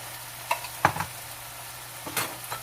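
Vegetables and tomato paste, with carrots, cooking in a pot for a vegan shiitake mushroom pilau: a few soft stirring scrapes and faint sizzling over a low steady hum, no talking.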